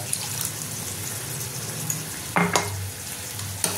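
Water from a rinsed mixer bowl is poured into a pan of frying prawn curry, with a sudden splash and burst of sizzling partway through over a steady background of frying.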